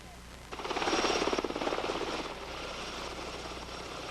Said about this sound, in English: Medevac helicopters descended into the Oconaluftee Visitor Center as heavy clouds descended onto the Smoky Mountains Park